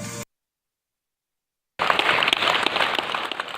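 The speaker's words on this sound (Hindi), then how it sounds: "ये ताली खुशियों की है।" Applause for recovered coronavirus patients at a hospital: after a brief opening burst and a pause of silence, dense crowd clapping returns loudly and steadily to the end.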